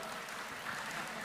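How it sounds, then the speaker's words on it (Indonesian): Faint, continuous audience clapping at a creative-economy discussion event, soft and distant throughout the brief moment. "Tepuk tangan untuk ekonomi kreatif."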